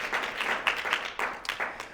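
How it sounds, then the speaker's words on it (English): Audience applause at a Club of Cleveland evening event honoring a longtime state government news reporter; a short burst of clapping from a room crowd, moderately loud with uneven individual claps, no talking over it. "round of applause, that's terrific."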